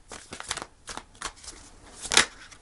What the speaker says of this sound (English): Let me just do one more shuffle, Leo.